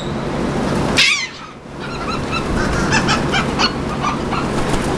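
A flock of seagulls calling over a parking lot in Clearwater: loud, harsh squawks and overlapping cries, one sharp call up close followed by a busy chorus of shorter calls amid outdoor noise.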